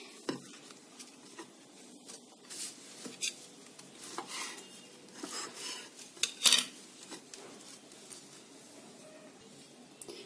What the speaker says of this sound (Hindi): तो सभी ब्रेड को मैं कट कर लेती हूँ बिल्कुल इस तरह से।